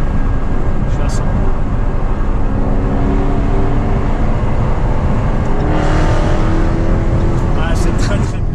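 A powerful car engine pulls hard under a fast cruise, its loud steady roar and road rumble running throughout with someone speaking French over it.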